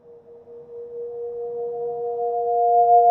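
An Aeolian harp set in a window hums on its own, a pure steady two-note tone that slowly grows louder, clear and close.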